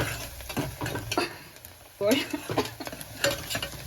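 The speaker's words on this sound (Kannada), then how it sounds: "ಈರುಳ್ಳಿ ಮತ್ತೆ ಹಸಿಮೆಣಸಿನ್ಕಾಯಿನ ಫ್ರೈ ಮಾಡ್ಕೊಬೇಕು" Onions and green chillies frying in oil for veg pulao, a soft sizzle broken by repeated stirring scrapes and knocks of a utensil, close and moderately loud, with a few brief clinks.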